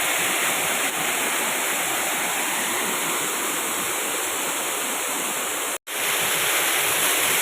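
A waterfall on a small stream bordering a house compound pours in a steady, loud, broadband rush throughout, with one abrupt momentary cutout near the end before the roar resumes.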